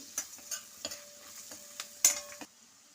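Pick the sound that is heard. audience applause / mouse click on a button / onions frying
onions frying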